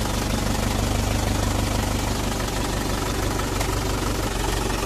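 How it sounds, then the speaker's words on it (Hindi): Mahindra 415 DI tractor engine pulling away, a loud, steady diesel chug with knocking pulses running continuously and close by, no voices. "हमारे जग्गू ध्रुव निकल चुके हैं घर जाने के लिए ट्रैक्टर की सवारी करते हुए"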